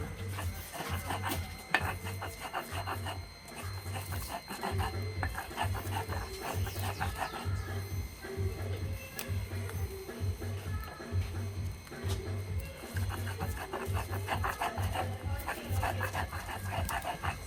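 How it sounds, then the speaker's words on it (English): Coconut choka seasoning ground fine by hand on a Guyanese grinding stone, a steady rhythmic scraping and rubbing with repeated back-and-forth strokes, close and continuous throughout. "So grind all of this out, and this is the way that we grind it on the sill."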